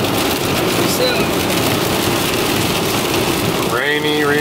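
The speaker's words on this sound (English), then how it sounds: "Rainy, rainy day." Steady heavy rain drumming on a moving car during a highway drive, a dense unbroken hiss with road rumble beneath, plus a brief tonal sweep near the end.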